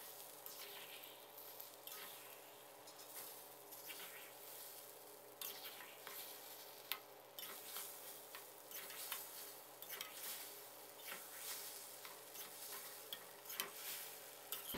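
Okra and egg stir-fried together in a pan make a quiet, continuous sizzle, broken by repeated spatula scrapes and taps against the pan.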